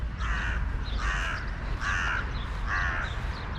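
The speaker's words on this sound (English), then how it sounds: "we do have a nice view of the crows coming down" Crows cawing near an apartment feeding spot, four loud harsh caws evenly spaced and close by over steady background rumble, with no talk.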